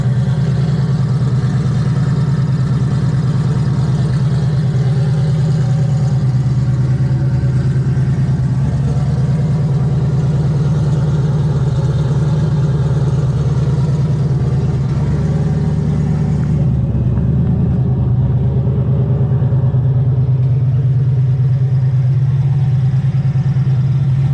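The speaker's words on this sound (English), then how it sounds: "car's warming up a little bit" A turbocharged Ford Mustang with over 500 horsepower idles while warming up, a loud, steady low rumble that holds for over twenty seconds with only slight shifts in tone.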